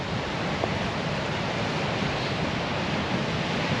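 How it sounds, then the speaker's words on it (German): Surf from the Indian Ocean along the coast of Mozambique, a steady, dense wash of breaking waves mixed with wind noise, loud and continuous with no voices. "wir sind am Indischen Ozean"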